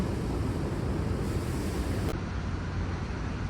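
Stormy wind blowing outdoors in Portugal during back-to-back storms, a steady, loud broadband roar with gusting buffeting like wind on the microphone, continuous for the whole stretch with no voices.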